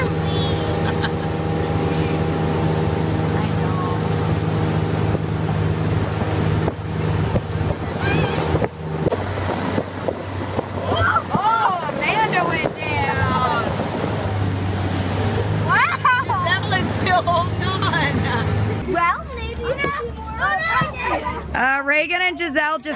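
A boat at camp speeding across choppy water, its engine droning loudly beneath heavy wind rush and slapping waves, with voices talking and shouting over it throughout.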